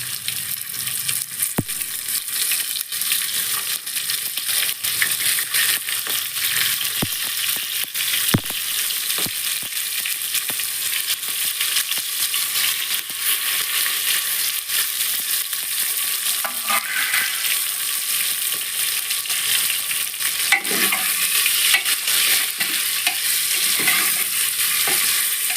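Stuffed brinjals for a Gujarati-style shaak fry in a pan, their steady, bright sizzle carrying on without a break while a spoon stirs and scrapes at intervals, all close and loud.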